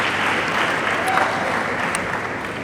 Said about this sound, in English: I think that deserves a bit of a round of applause.